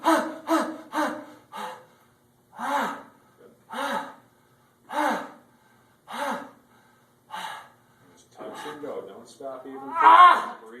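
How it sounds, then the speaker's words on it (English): Heavy breathing during a slow strength exercise: repeated forceful breaths and gasps in short bursts with pauses between, close and clear, with strained vocal effort toward the end. "Breathe. Keep breathing."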